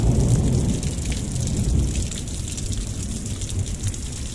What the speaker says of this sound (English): it still rains a lot